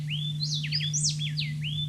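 A played recording of two birds singing together, male and female parts interleaved, gives a rapid run of high sweeping whistled notes and chirps over a steady low hum.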